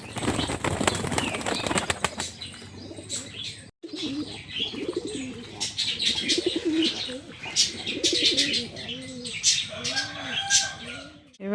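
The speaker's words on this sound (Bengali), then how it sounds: "ঘরের পায়রাগুলোকে ছেড়ে দেবো।" Pet pigeons in a home loft coo repeatedly in soft, rising and falling phrases, close by, mixed with wing flaps, rustling and occasional chirps. A voice speaks briefly among them.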